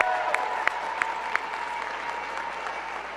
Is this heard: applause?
yes